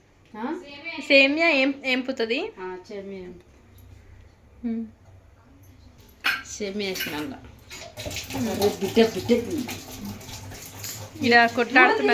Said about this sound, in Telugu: నీళ్ళెందుకు వదిలినావు